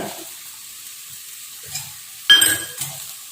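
Raw banana slices sautéing in oil in a pan, a soft sizzle with a few scraping stirs and a sharper clatter of the spoon near the end, fairly quiet overall.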